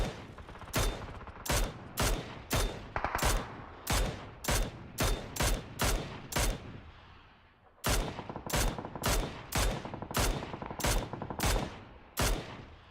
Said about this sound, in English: Oh no, someone's got an MG.